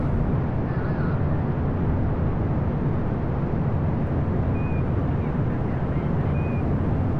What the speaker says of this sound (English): 5, 4, 3, 2, 1. And the rocket has begun.